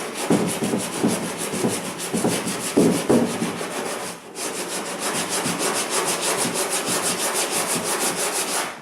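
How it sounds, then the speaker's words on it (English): A wooden kayak hull is hand-sanded with steady, rhythmic back-and-forth rasping strokes, loud and close, with a brief pause midway before the scrubbing resumes, and no voices. "You can see we'd already sanded this a little bit up in here to get the tape off"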